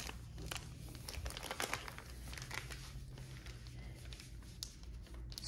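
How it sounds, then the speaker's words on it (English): A fabric travel compression bag crinkles and rustles as it is handled and zipped closed, quiet close-up crumpling with small ticking clicks and no talking. "And it has a little clip here to zip it."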